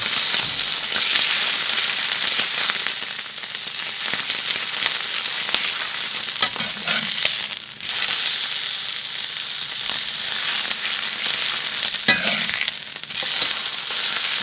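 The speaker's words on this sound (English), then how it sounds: "Few different sears on each side there." A5 Wagyu ribeye steak searing in a hot pan gives a loud, steady sizzle and crackle that runs unbroken for the whole stretch, with no talking.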